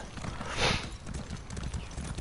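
Horse hooves clopping in a quick, steady rhythm in the video game Elder Scrolls Online, over a rushing, noisy background, with a brief swell of noise partway through.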